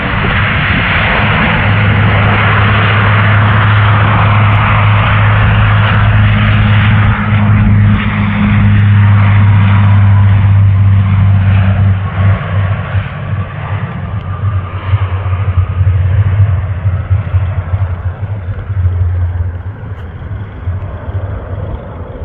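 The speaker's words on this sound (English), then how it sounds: "I'm here at the Toronto Island Airport, and I'm about to watch a plane take off" A plane takes off at Toronto Island Airport, its engine drone loud and steady with a strong low hum, holding for a long stretch before gradually easing as it climbs away.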